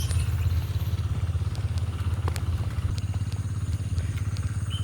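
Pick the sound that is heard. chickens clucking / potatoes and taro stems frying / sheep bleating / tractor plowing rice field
tractor plowing rice field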